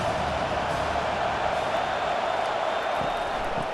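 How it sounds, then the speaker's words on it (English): Stadium crowd cheering during a College Football 25 game between Utah and Michigan State, a dense, steady roar filling the whole moment at a constant loud level. "this crowd is tearing the lid off this place."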